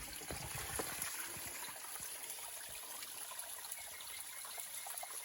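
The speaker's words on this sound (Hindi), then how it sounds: "पानी की आवाज़।" Pure spring water flows through a forest in a continuous soft trickle and gurgle, low and steady, with a few faint knocks early on.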